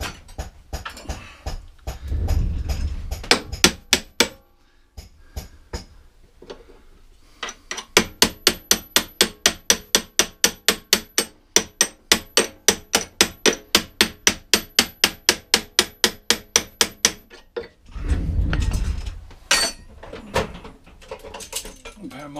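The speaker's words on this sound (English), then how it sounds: "Hammer and a punch." A hammer drives a punch on a Honda Izy, giving a long run of evenly spaced, sharp metallic strikes at a brisk steady rhythm, close by. A short burst of earlier tapping and brief talk come before and after it.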